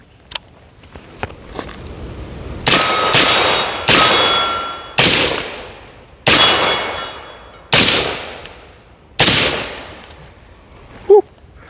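A new Rosco Mfg truck gun rifle fires six loud, sharp shots in a slow, uneven series, each crack ringing out and fading, with a few faint clicks before the first shot.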